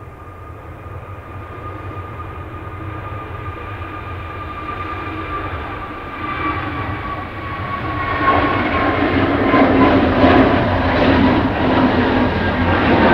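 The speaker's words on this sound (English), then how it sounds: "this one is a Jet 2 going to Gran Canaria" A Jet2 Airbus A321neo airliner at Manchester Airport gives a steady jet engine roar that swells louder over the second half, with whining tones rising in pitch as it passes fairly close.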